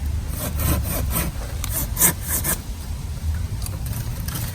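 A hand saw cuts through a tree branch during pruning, making repeated rhythmic rasping strokes, close and moderately loud, with no one speaking.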